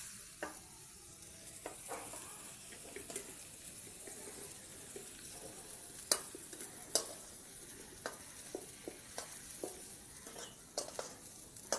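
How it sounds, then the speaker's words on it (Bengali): Jackfruit lightly frying in oil in a pan, with a steady soft sizzle and occasional sharp scrapes and clinks of a spatula stirring, fairly quiet and close with no talking. "দেখো আমার এঁচোড়টা বন্ধুরা হালকা করে ভাজা হয়ে গেছে"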